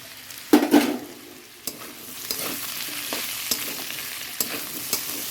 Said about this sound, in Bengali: এবার এর মধ্যে যেটুকু পেঁয়াজ ছিল এটাকে দিয়ে দিচ্ছি